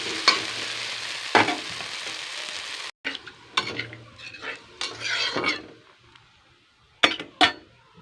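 Water poured into a pan of fried spice masala for a Bengali pangas fish curry sets off a sharp hiss, followed by stirring clinks and sputtering sizzle that fades, then a couple of spoon knocks against the pan.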